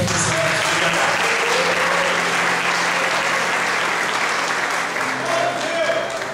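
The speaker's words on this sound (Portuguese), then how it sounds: "Queria que você desse uma salva de palmas para o Robson." A church congregation gives sustained applause during a family worship service, a dense, loud wash of clapping that holds steady from start to end, with faint voices mixed in.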